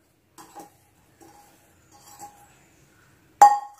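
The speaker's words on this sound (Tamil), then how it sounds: "இப்போ இதெல்லாம் ஒன்றா கலந்துக்கலாம்." A few brief clinks and scrapes of a utensil against a bowl while stirring a chopped fruit mixture, spaced out, ending with one louder sharp clink.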